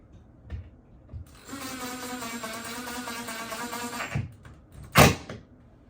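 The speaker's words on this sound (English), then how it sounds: "then get those screws in nice and tight" A screw driven tight into wood to fix a wall mount gives a close, sustained whirring grind of a couple of seconds, framed by a few short clunks and a louder knock at the end.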